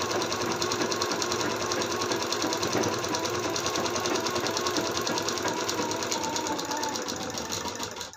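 A sewing machine runs continuously and fast while stitching a long-sleeve blouse, giving a loud, even mechanical whir with rapid needle ticking and no pauses.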